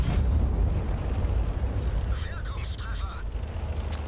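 A tank gun fires in World of Tanks, a heavy booming blast at the start that rumbles and fades, followed by faint clanking and crackling with a voice talking over it.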